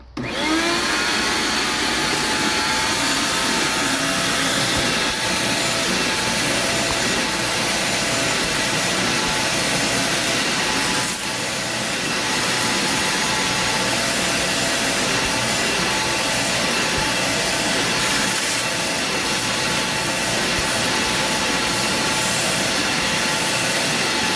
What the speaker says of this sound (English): easier to vacuum up. We're just gonna flip the switch on again.